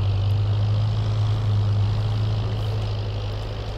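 A New Holland tractor engine in the Farming Simulator 22 video game, a constant low droning hum with a strong steady tone, even and unbroken, fading slightly toward the end.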